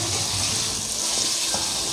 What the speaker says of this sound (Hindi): मैं अब इसमें जो है ना ये पानी ऐड कर रही हूँ 1 कप